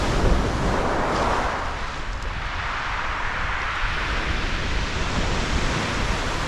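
Sea swell and surf rolling onto the shingle of Chesil Beach at Ferrybridge, a loud continuous roar of breaking waves mixed with wind buffeting the microphone, with no voices.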